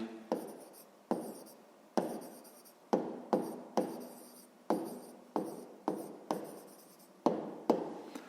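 Pen writing in a school exercise book, close and clear: a series of short scratchy strokes in quick bursts, each starting sharply and fading, with brief pauses between words and no talking.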